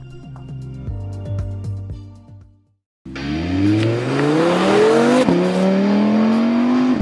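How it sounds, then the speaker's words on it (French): An Audi R8 V10 heard from inside the cabin on a race circuit revs through the gears with rising engine tones. After a short pause comes one long, loud, full-throttle pull with a climbing whine, close and dominant, with no talking. "Déjà un super son à l'intérieur, le V10, quel bonheur."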